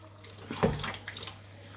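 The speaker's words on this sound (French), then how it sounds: "Après, je vais le rincer là." Washed items are rinsed under running water, a short faint gush and splash rising briefly in the middle of a quiet stretch, heard up close with no talking.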